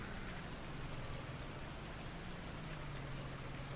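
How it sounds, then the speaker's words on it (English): Game rain in Farming Simulator 19 falls as a steady, even hiss of drops on the surroundings, faint and unchanging throughout, with a low engine hum underneath and no talk. "And it's still raining."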